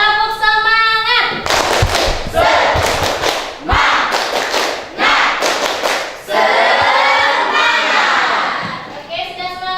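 A class of tenth-grade science students does a rhythmic cheer clap: bursts of clapping in a patterned beat alternate with loud children's voices chanting and shouting together, all close and energetic.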